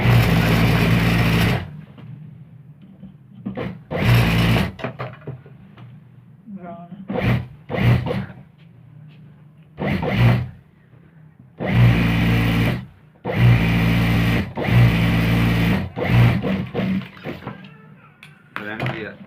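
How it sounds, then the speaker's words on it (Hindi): An electric sewing machine stitching a salwar in bursts, a loud close whirring run of stitches starting and stopping repeatedly with quiet pauses between. "इनके निशान पर से फिर सिलाई यहाँ पक्का करेंगे"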